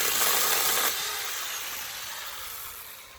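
A branch is cut with a tree trimmer: a bright rasping cut for about a second, then a fading hiss and rustle, close and fairly quiet.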